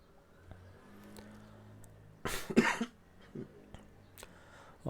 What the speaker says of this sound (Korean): 영상 촬영 중에 자꾸 기침을 할 수가 있습니다.